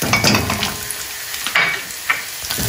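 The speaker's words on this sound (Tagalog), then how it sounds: "Haluan lang natin siya." Onion, garlic and tomato paste sautéed in a pan for a Filipino goat stew, with a continuous close sizzle under brisk scraping stirs of a spoon, fairly loud and brief, no talking.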